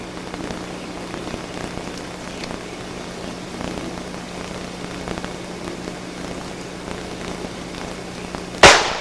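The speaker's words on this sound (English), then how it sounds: "now we're going to find out what it feels like to actually get shot in the chest at close range" A single gunshot is fired at close range into a person's chest, one sharp, loud bang right at the end after a stretch of quiet, hissy background.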